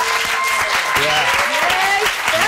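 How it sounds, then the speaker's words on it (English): An audience applauds a comedian, clown and entertainer at a live show with a steady wash of clapping, and a voice speaks over it throughout. "round of applause."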